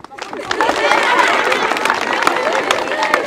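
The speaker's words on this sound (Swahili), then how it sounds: "Makofi kwa mama." Applause and cheering from a crowd for Neema, a local councillor, at a community gathering in Simbo ward, a sustained burst of clapping with scattered voices and chatter mixed in.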